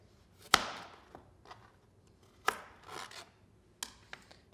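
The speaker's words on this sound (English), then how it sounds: "Start by chopping off the ends." Three sharp knife chops cutting the ends off a carrot on a cutting board, spaced a second or so apart, with light scraping and rubbing between them, close and otherwise quiet.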